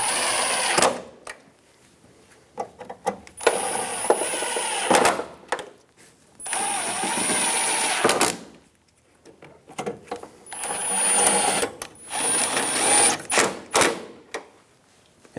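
A power driver buzzes in repeated short bursts as trim screws go into the front trim of a 1988-1999 GMC K1500, close and loud, with quiet gaps between each run.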